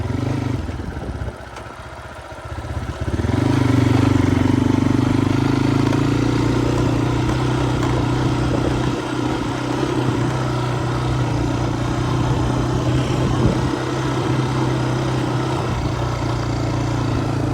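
A motorcycle engine on an offroad ride near a river rumbles steadily for a long stretch, loud and close, dipping briefly early before settling into a continuous drone.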